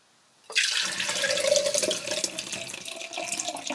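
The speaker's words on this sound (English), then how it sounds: "we're going to pour it in our jars" Strained vegetable juice pours steadily into jars as a continuous splashing stream, starting abruptly and running close and fairly loud without pause.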